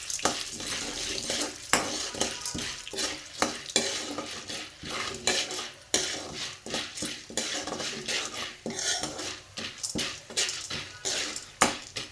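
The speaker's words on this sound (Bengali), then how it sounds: "রান্নাঘরে পপকর্ন ভাজবো" Popcorn cooking in a pan in a home kitchen, with steady sizzling, frequent sharp clinks and scrapes of a utensil against the pan, close up and continuous.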